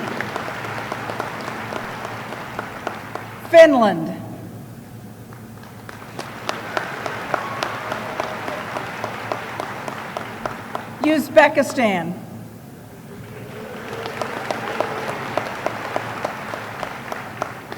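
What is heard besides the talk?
audience applause for graduates at commencement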